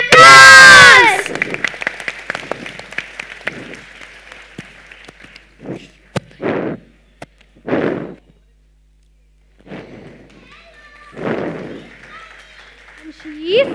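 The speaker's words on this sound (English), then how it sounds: "Applause!" At a primary school show, an audience breaks into a loud burst of applause and cheering for about a second. Several voices then speak and call out in short bursts, with quiet gaps between them.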